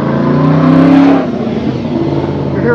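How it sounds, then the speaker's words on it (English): Hot rod engines rumble and rev close by as cars cruise past at the Woodward Dream Cruise car show, a loud, continuous throaty roar with one engine climbing in pitch, then a steady rumbling drive-by. "You're hearing the hot rods cruise by because we're at Woodward."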